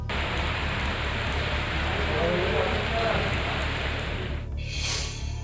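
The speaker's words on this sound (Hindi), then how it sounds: "मध्य प्रदेश में बारिश मूसलाधार।" Heavy monsoon downpour in Madhya Pradesh, a dense, loud, unbroken hiss of rain close by, briefly broken near the end by a sharper burst of noise.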